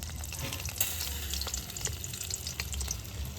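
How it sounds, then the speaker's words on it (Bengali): Raw rice frying in hot oil inside a metal strainer, a dense, continuous sizzle and crackle heard close and alone. "এখানে আমি একটা ছাঁকনি নিয়েছি ঠিক তেলের মধ্যে এইভাবে দিয়ে এই যে চালটা রেডি করে রেখেছিলাম এইভাবে দিয়ে দেবো"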